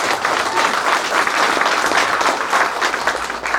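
A crowd applauds the families supporting veterans at a Congressional Gold Medal presentation ceremony in Simi Valley, with dense, steady clapping that fills the room for a few seconds, no voices over it.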